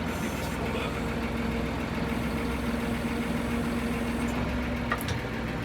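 A Massey Ferguson tractor idles steadily at a farm hay-loading spot, its low engine drone holding even and continuous throughout with a faint hum layered on top and no talk.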